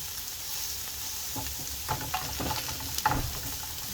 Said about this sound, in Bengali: এখন আমার শুটকি ভাজা হয়ে গেছে